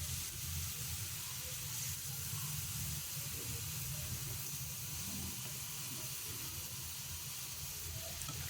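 Cleaned, cut chicken liver going into a hot frying pan with spices for a liver fry, giving a steady, close, hissing sizzle with a bright steamy wash that continues evenly throughout.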